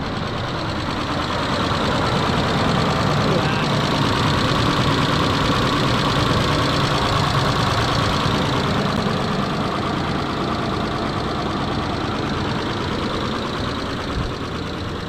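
Engine of a $500 budget rock crawler car idling steadily after starting, a continuous close rumble with a faint ticking knock, even and unbroken for about fifteen seconds.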